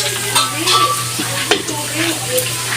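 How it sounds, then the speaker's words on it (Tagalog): Squid balls frying in hot oil make a steady crackling sizzle with occasional sharper pops and the scrape of a stirring utensil, heard close and continuous under a low electrical hum. "yung nagpiprito ng squid ball"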